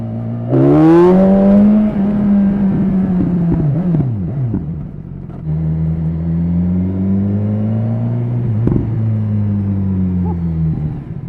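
A loud, close BMW S1000XR motorcycle engine revs sharply, then settles into a deep, steady exhaust drone with a few brief throttle blips.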